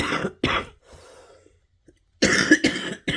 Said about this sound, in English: Again, I'm really sorry about the coughing.